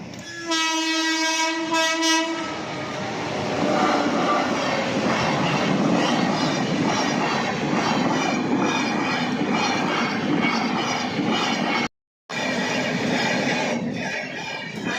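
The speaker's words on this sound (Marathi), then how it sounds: "ही बघ ट्रेन आली." A train pulls in with a long, loud horn blast at the start, then a steady roar of rattling, clattering wagons rolling close by, with a brief cut near the end.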